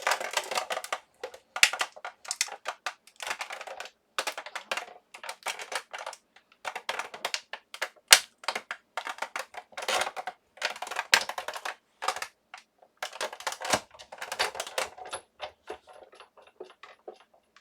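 A Sizzix die-cutting machine cranked slowly through tab dies makes a long run of irregular close clicks and ratcheting ticks with brief gaps, fairly quiet overall.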